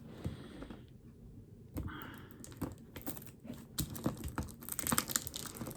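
Tape being torn and peeled off a heavily taped parcel box, with scattered crackling rips, scratchy pulls and cardboard rustles at fairly low volume, bursting into denser tearing near the end.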